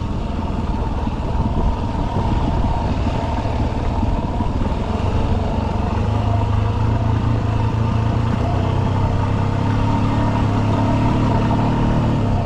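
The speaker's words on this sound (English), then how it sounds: "Engine braking and brake braking." A dirt bike engine braking on a steep mountain pass descent from Imogene Pass toward Telluride, Colorado: a loud, continuous close-up engine drone with shifting low-pitched tones and wind noise throughout.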